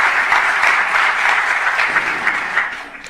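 Steady, loud clapping from an audience at a school district board meeting, a dense continuous wash of many hands throughout with faint voices underneath.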